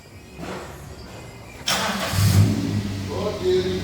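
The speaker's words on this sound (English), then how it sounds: "it fills the exhaust aperture absolutely perfectly, and it sounds amazing" A car engine breathing through a newly fitted exhaust catches and rises into a revving roar midway, then settles into a steady rumble close by, with faint voices underneath.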